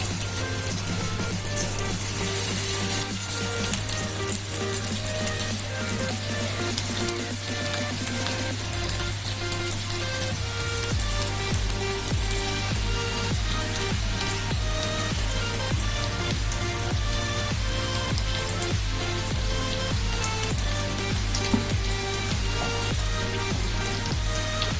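Chicken pieces frying in hot oil, a loud, steady crackling sizzle that stays dense and constant throughout with no talking.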